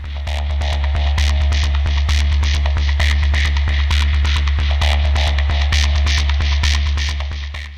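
A Red Panel Model 158 synthesizer drones with a deep, loud hum and pulsing throb, overlaid by rapid rhythmic noise clicks and bursts through filter, delay and reverb, steady throughout with no voice.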